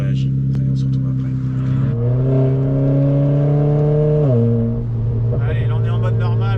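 Renault Clio 4 RS 18 Stage 3 engine revving during a test run, a loud, strong tonal drone that climbs in pitch, holds high and then drops, with a voice audible near the end.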